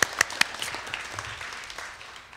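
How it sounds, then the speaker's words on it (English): Applause from an audience at a Mercy Housing event for 1100 Ocean Ave in San Francisco, a burst of scattered claps that opens with a few sharp hits and then thins into a soft, steady patter. "A little clap for Kevin."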